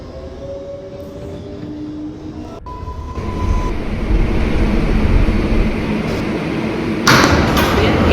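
An uptown local 4 train of R142A cars rolls into a New York City subway station, a rising rumble and clatter building loudly, with a brief squeal and a hiss near the end.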